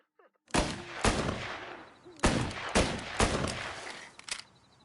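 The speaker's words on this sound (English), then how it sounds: "Shots came from that away." Gunshots in the Mafia video game, about seven loud, sharp cracks in irregular spacing, each with a booming echo tail, nearby and heard alone.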